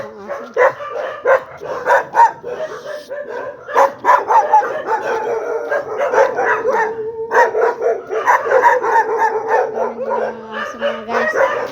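A crowd of pet dogs barks and howls on and on, with dense overlapping yaps and drawn-out howling tones rising and falling close at hand.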